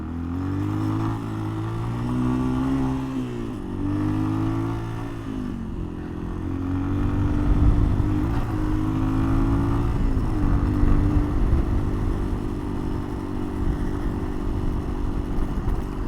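A Yamaha XT225 motorcycle engine is ridden in low first gear, droning steadily close to the microphone with rising and falling pitch as the throttle changes, along with road and wind rumble and no talking.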